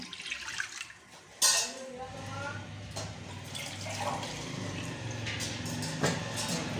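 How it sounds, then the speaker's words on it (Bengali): Water poured into a wok set on a gas stove, a splashing, gurgling pour after a sharp metallic clank, continuing steadily at moderate loudness. "কড়াইয়ে জল দিলাম"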